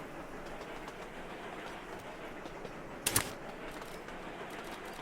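A short coal train from the Sweet Transit video game rolls along steadily, its faint continuous rumble holding under a brief louder clatter midway, with no voices.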